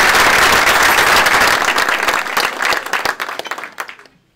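Audience applause fills a morning lecture-series hall in thanks to a sponsor, a dense, loud wash of clapping that thins into scattered claps and fades out near the end.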